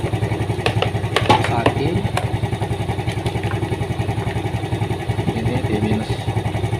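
A Yamaha Vega motorcycle idles after its battery and regulator were replaced, as it suffers repeated stalling. The close, steady engine putters in an even rhythm with some mechanical clatter, and a person speaks over it.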